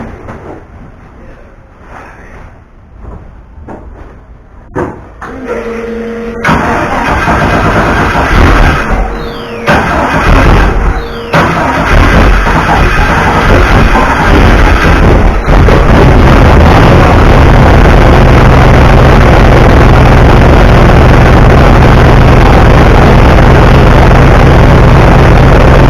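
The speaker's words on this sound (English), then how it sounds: "let's see if she'll fire up and have oil pressure to the turbo" A turbocharged engine cranks and fires up, settling into a loud, steady running roar that dominates the second half, with brief talk early on.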